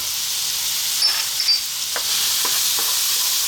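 Chopped onion, garlic and dried oregano sizzle steadily in a hot pan, with a few scraping stirs of a utensil rising over the continuous frying hiss.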